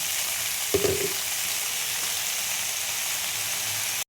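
Red amaranth greens hit a hot pan and sizzle steadily, a soft thump at the start of the drop, then an even, close frying hiss continuing to the end with no talking.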